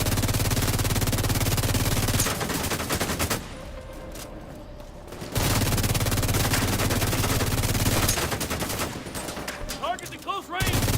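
Automatic weapon fire in The Division 2 shooter game, long rapid bursts of loud gunshots broken by a short pause, with game sounds around them and no voices.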